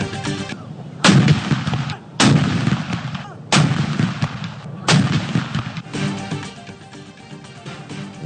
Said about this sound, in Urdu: اسلام آباد میں 31 اور صوبائی دارالحکومتوں میں 21 توپوں کی سلامی۔